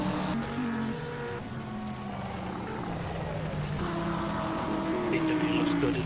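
A BMW GTE race car in rFactor 2 at a Petit Le Mans qualifying session: a continuous droning engine note rising and shifting in pitch through the gears, steady and moderately loud, with a commentator talking over it.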